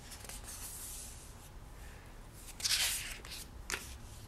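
Pages of a rainbow sticker book riffled and flipped by hand, soft papery rustles with a louder flurry near the middle and a brief flick near the end, close and quiet.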